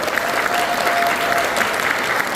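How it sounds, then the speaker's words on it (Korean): A church congregation at a Korean ordination thanksgiving service claps warmly and steadily for newly installed deaconesses, a full, even wash of applause. "여러분 큰 박수로 격려 부탁드리겠습니다."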